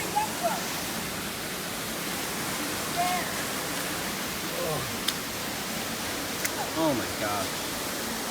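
Cinco Falls waterfall in Baganga, a steady broadband rushing roar of falling water filling the whole clip, with brief exclamations and chirpy voices over it.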